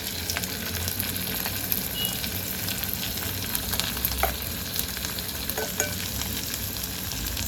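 Chopped onions fry in a pan for omena, a steady dense sizzle with occasional stirring scrapes running throughout, close and continuous with no talking.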